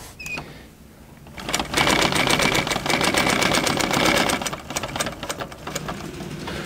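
Treadle-controlled sewing machine stitching a seam, a near, rapid mechanical chatter of needle strokes in bursts that start and stop, with a quieter pause before the run speeds up.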